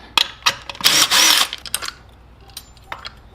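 A 10mm socket wrench works bolts loose on a Honda VF750 Magna motorcycle, giving sharp metallic clicks and a brief burst of rapid ratcheting, close and sparse with quiet gaps between.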